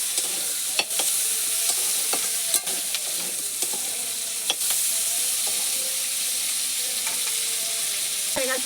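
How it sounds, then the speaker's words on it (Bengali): Cauliflower frying in oil in a pan, a steady sizzle throughout with intermittent scraping clicks of a spatula stirring the pieces, close and continuous with no talk. "কপিগুলো একটু ভাজা ভাজা মতো হবে"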